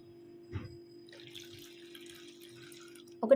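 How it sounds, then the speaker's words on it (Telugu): Water pours into a pan while chutney is being made, a brief splash and trickle with faint drips and clinks in an otherwise quiet kitchen. "సో మనం ఇందులో వాటర్ యాడ్ చేసేసుకుందాం."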